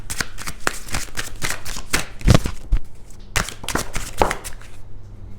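Tarot cards being shuffled by hand, a steady run of crisp riffling flicks and soft slaps, close and fairly loud with no talking.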